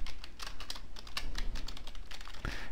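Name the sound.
typing data on a computer keyboard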